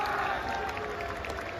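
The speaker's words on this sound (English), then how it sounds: "and then some applause" A crowd breaks into applause after booing, a dense wash of clapping and murmuring voices that holds steady for a moment.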